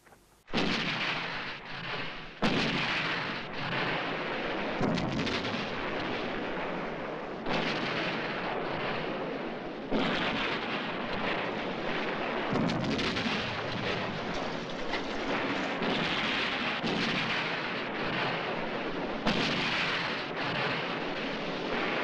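Sustained World War II artillery barrage from a battle film, heavy booming detonations and rumbling gunfire rolling continuously for over twenty seconds, loud and dense with repeated sharp blasts and no voices.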